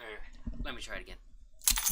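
Keys jangle in a few short metallic clinks and rattles, with a brighter burst of jingling near the end, close and clear while a voice talks over part of it.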